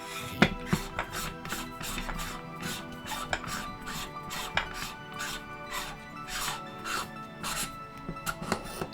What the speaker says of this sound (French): Il faut dévisser ici. Et on peut venir l'enlever.